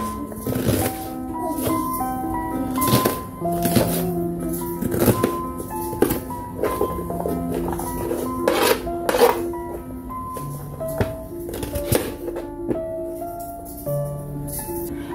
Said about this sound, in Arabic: نقطع البصل تاعي كان بهذا الشكل